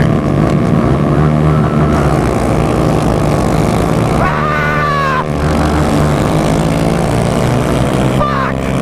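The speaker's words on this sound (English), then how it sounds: "I think I bounced the rev limiter in first." A Honda Grom motorcycle engine screams at high revs in first gear at drag races, bouncing off the rev limiter with sharp pitch sweeps, loud and continuous amid crowd noise and other engines.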